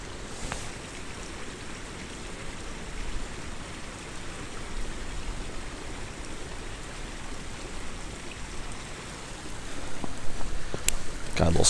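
Water rushes in a steady broadband hiss, a creek flowing close by in winter with some snow, continuous and unbroken, growing slightly louder toward the end.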